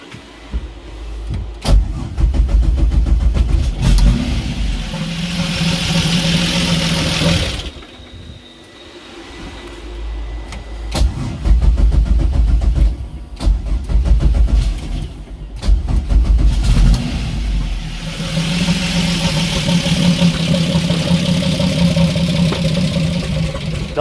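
A turbocharged 3800 engine swapped into a Pontiac Fiero runs with loud lifters, its close, rough idle swelling and dipping through several revs with no talk over it.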